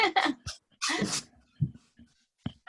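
A noisy dog indoors gives a series of short bursts of huffing, whining and breathy yips with gaps between, fairly close and with no talk.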